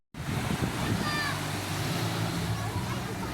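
Steady strong wind roaring across the microphone outdoors, with a low rumbling undertone and faint surf-like wash throughout.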